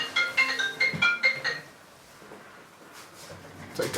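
A mobile phone ringtone rings on a fly-tying bench, a quick repeating electronic melody of bright tones lasting about a second and a half before cutting off, followed by quiet room noise and faint handling sounds.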